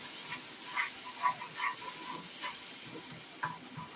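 Masala with garlic fries in oil for a dhaba-style egg tarka, a soft close sizzle with scattered bubbling pops and a few light stirring scrapes.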